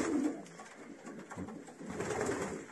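Racing pigeons coo softly inside a loft, several low rolling calls rising and fading at close range over quiet background rustle, with no talk.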